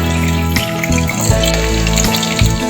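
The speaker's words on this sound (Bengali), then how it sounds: "পটলটাকে আমি হালকা লাল করে ভেজে নেব।" Pointed gourd (potol) frying in oil in a pan, a steady close crackle and sizzle with occasional louder pops and spatters, no talking.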